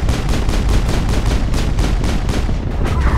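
Gunfire and rocket blasts in the video game Mass Effect, a rapid continuous stream of loud sharp shots close by, with no gaps, and a heavier burst near the end.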